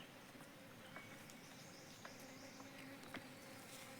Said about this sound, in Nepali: एकदमै मजाले मौरी चरिरहेको अवस्था छ यहाँ।